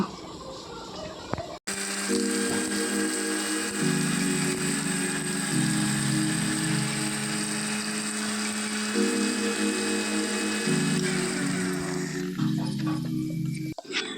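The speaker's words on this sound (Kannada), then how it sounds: "ಈಗ ಮಸಾಲೆ ಪುಡಿ ಮಾಡುವ" An electric mixer grinder grinds masala powder for a fish sukka in a home kitchen. It runs loud and steady for about twelve seconds, with pitch shifts as the motor is pulsed, then cuts off abruptly.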